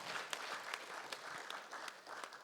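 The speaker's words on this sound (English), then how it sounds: "Can you please give them another round of applause?" An engineering society lecture audience in a hall gives a steady round of applause, moderately distant, with dense claps and no voices.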